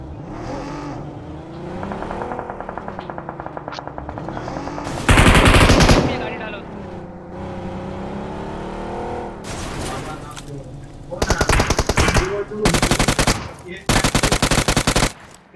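Rapid automatic gunfire bursts from a Miramar match in the BGMI battle royale game, loud clustered volleys near the end over a steady engine-like hum and in-game background.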